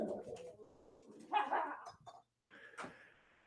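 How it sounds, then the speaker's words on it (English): A dog barks in a few short, sharp bursts nearby, with a pause between them and some background noise. "My dog here is barking at a strange visitor"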